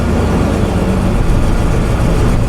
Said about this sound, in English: This vehicle does actually start and run, but it runs like poo.